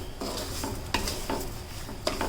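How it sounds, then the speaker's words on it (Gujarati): Sugar being stirred into sweet vermicelli in a pan, soft scraping strokes with a few sharp clinks of a spoon against the pan, close and steady. "સારી રીતે મિક્સ કરી લઈશું."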